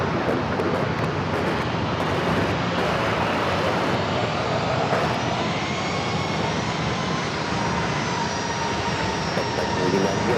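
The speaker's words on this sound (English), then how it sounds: "This next Southwest 737-700 already cleared for takeoff." A Southwest 737-700 departing San Diego airport, heard as a continuous broad jet roar with a whining engine tone and wind noise throughout, steady and fairly loud.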